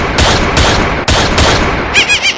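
Rapid bursts of cartoon gunfire crack loudly in quick succession, followed by a few short high-pitched electronic chirps.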